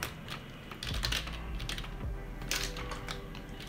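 Rapid typing on a computer keyboard, close and fairly quiet, with quick irregular clicks and a few heavier key strikes, no talking.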